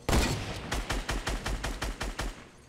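Rapid bursts of gunfire in the Fortnite video game, around ten loud, evenly spaced shots in quick succession, heard alone with no talking.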